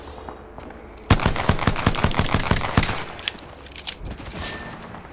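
Automatic gunfire in the video game Apex Legends rattles off as a fast, loud burst of a dozen or so close shots, then fades into scattered quieter reports and ambient noise.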